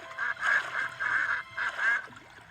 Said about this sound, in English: They quacked and quacked.